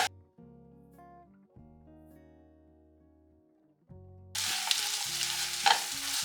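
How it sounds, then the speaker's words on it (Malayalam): Tomatoes sautéing in masala for a Thalassery-style mussels biryani: a steady close sizzle of frying and stirring starts partway through and fills the last couple of seconds, with melodic music playing throughout. "ഇത് നല്ലപോലെ വഴറ്റിയെടുക്കണം"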